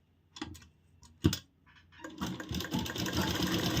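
A sewing machine stitching a blouse, starting with a few short tentative bursts and handling clicks, then settling into a steady run of fast rhythmic stitching, close and fairly quiet.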